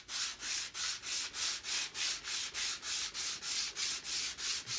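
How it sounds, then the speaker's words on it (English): Sandpaper is rubbed by hand along a wooden rifle stock from a swivel breech rifle kit, a close, raspy scratching in even back-and-forth strokes, about three per second, steady and uninterrupted. "if you've got a good sharp piece of sandpaper, it doesn't take any time at all"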